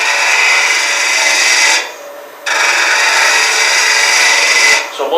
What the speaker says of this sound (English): So to open this hole up, I'm going to use the straight tool.